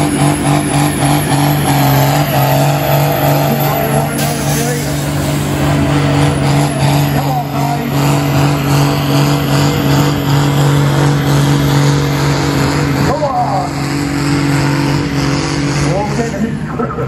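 Vintage engine at a North Somerset show running steadily with a loud, constant throb and steady tonal hum, held near throughout, with a crowd and announcer talking over it.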